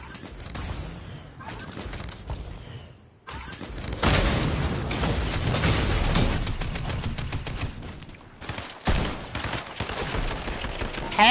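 Rapid automatic gunfire from the Fortnite video game, dense bursts of shots with brief pauses between them, loud and close, with faint voices now and then.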